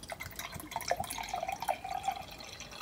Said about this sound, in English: I'm gonna pour it into this cup just to like show it off